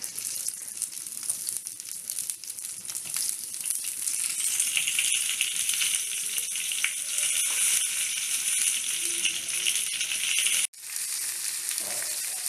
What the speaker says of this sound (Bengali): তেলটা গরম হয়ে গেছে, এবার পটলগুলোকে ভাজবো।